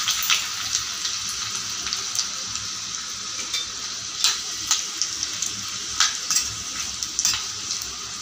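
Cumin seeds, dried red chillies and garlic sizzle and crackle steadily in hot oil for a tadka, with occasional sharper spits and stirring scrapes rising over the constant close frying hiss.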